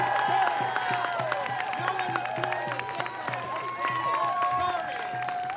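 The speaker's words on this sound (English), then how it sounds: "Big round of applause." Protest crowd applauding and cheering a speaker at an outdoor rally, steady clapping with scattered shouts and voices continuing throughout.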